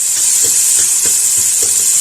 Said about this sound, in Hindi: ऑयल जैसे ही गर्म होता है तो इसमें ये प्याज डाल देंगे।